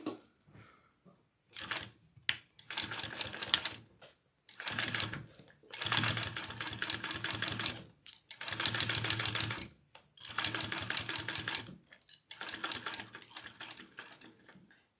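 A sewing machine runs in repeated bursts while stitching a quarter-inch seam along the base of a crossbody bag panel. The motor whirs loudly in runs of about one to three seconds, separated by short pauses, with no talking over it.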